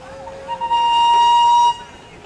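The steam whistle of a 1922 Russell steam traction engine at a pioneer-days steam show gives one short, loud, bright toot of about a second, with a brief rising start, then falls silent.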